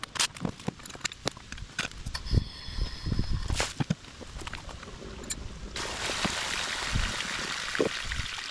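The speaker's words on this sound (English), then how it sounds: "take the pool pump apart, take the filters out, and drain the water" Water draining from a backyard pool pump as it is taken apart to close the pool, a close trickling and splashing flow with scattered clunks and handling knocks, turning into a steady broadband rush in the last few seconds.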